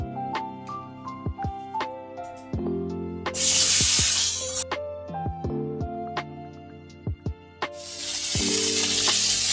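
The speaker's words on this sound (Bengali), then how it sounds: "এই ফুলকপিগুলো দেব তেলের উপর" Cauliflower pieces fry in hot oil with turmeric for cauliflower chops, giving a close, loud sizzle in two sustained bursts over a steady background hum, with a few clinking taps between.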